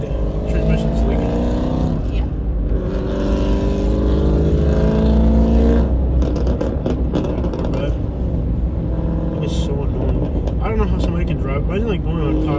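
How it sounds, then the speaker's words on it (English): A loud car engine roars nearby on a street at night in Sebring, Florida, its rough growl rising and falling as it drives past, with people talking over the noise. "Imagine like going on a cross country trip on a car that's that loud."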